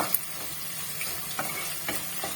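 Garlic and green chillies sizzle steadily in hot oil for lime pickle, a constant frying hiss broken by a few soft stirring scrapes.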